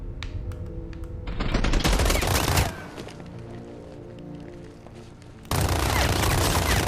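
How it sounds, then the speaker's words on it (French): Heavy machine gun fire from the Batman Arkham Knight video game rattles in dense, loud bursts, with a long sustained volley, a quieter lull and then another blast of rapid shots. "une mitrailleuse lourde en fait"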